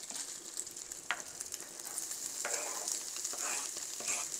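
Onion frying in a pan as it goes in during quesadilla or empanada cooking, a steady close sizzle with a few stirring scrapes and no talking.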